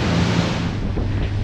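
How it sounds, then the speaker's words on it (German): A boat running over rough North Sea waves makes a continuous, loud rushing roar of water and wind against the microphone, steady and unbroken throughout. "Einfach herrlich, so über das Wasser zu gleiten."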